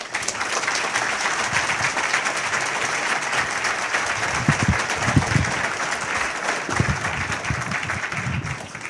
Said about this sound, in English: a very loud round of applause to a very powerful man, Dr. Stephen Greer.